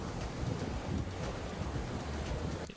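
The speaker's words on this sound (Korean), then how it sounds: "이런 파도 소리가 들리죠." Ocean waves wash continuously at a Queensland, Australia shore, with a steady surf roar mixed with wind buffeting the microphone. No voices are heard.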